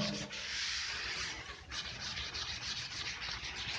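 Writing is wiped off a classroom board with continuous scratchy rubbing strokes, close and fairly loud, with a short pause before the strokes start again.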